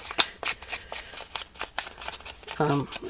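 Scissors fussy-cut paper around a torn flower for book-page pockets, making a series of close, crisp snips at an uneven pace. A voice speaks briefly at the end.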